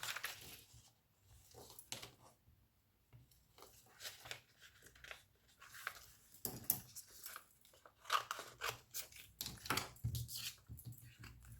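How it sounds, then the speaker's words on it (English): Scissors trimming a piece of vellum paper for a dress jacket tag, with quiet, crisp snips and rustles coming in irregular bursts at close range. "I'll trim that off because that's got a little bit of white paint on it."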